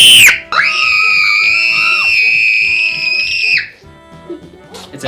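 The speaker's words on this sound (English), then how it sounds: "Can you give us one more scream?" Young girl letting out a long, loud, piercing scream held for several seconds at close range, then breaking off into quieter background noise.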